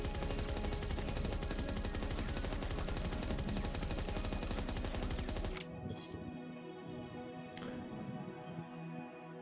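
Dense, rapid gunfire from the video game Beyond Sunset rattles nonstop and loud for several seconds, then cuts off abruptly, leaving a quieter mechanical background with a couple of sharp clicks.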